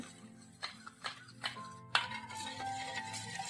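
A spoon clinks and scrapes against a bowl while a mixture is stirred with a pinch of salt. Several sharp taps come close together, followed by softer, continuous scraping, all quiet and close, with no voices.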